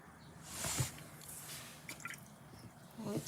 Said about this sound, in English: Rinse my brush, dab off, and just pick a bit of it up.